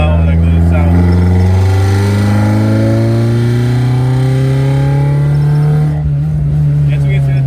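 A throttle-fed Opel C20XE engine held at full throttle, its loud intake roar climbing steadily in pitch as revs rise, then easing briefly near the end, close and continuous.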